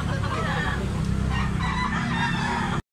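A black-legged stag rooster crows close and loud in a single drawn-out call that stops abruptly, with farmyard background noise around it.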